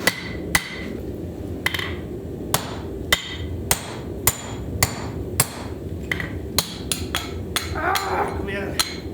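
A power hammer forges hot steel, drawing out lugs over a drift with a series of about fifteen sharp, loud, unevenly spaced blows. A low background rumble and occasional voices sit underneath.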